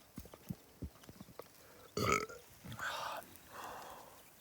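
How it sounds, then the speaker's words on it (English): A man burps over sausages at a camp in the Mongolian wilderness: one loud, drawn-out belch, followed by quieter guttural sounds, between soft clicks and brief murmurs. "I'm going to burp on these sausages, give it that chippy tea flavour"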